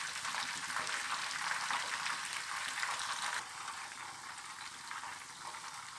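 Chicken lollipops frying in hot oil in a pan on a gas stove, a dense steady crackling sizzle that eases slightly partway through, close and continuous with no voices.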